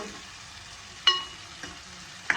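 Bitter gourd fries in a pan with a low steady sizzle, broken by a few sharp clinks and scrapes from stirring.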